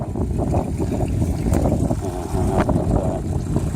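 An 8 hp Mercury outboard motor idles with a low, steady chugging burble, close and continuous, with faint watery splashes around it.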